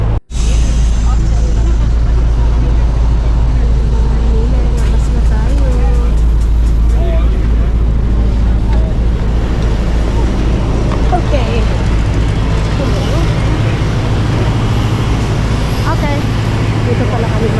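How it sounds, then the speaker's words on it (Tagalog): An airport bus interior rumbles loudly with a constant low engine drone and road noise throughout, while people talk close by under the din. "Medyo maingay yung bus mga maninay"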